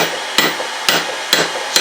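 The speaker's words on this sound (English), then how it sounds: "The last time this drift was used was when I made this hammer that I'm using as" A hammer strikes hot steel over a drift while knife tongs are forged, four sharp ringing blows spaced about half a second apart, loud and close, with no talk.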